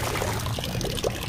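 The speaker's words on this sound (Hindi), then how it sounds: "ये पानी कहीं ना कहीं यहाँ से टपकता हुआ ये आ रहा है।" Rainwater dripping and pouring through a leak indoors after very heavy rain in Delhi, a close continuous splashing trickle with no talk.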